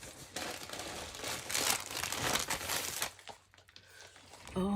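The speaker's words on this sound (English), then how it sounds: "Sorry for all the rustling." A plastic bag crinkles and rustles close by while an order is unboxed, continuous crackling handling noise that fades toward the end, then a brief sharper sound.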